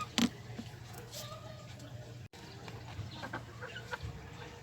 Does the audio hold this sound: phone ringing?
no